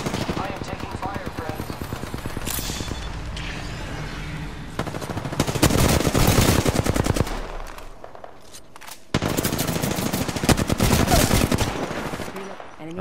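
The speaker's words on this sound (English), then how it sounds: "I am taking fire" Video game gunfire sounds as sustained rapid automatic bursts, louder in the middle and again near the end, with a short lull between and a voice talking at times.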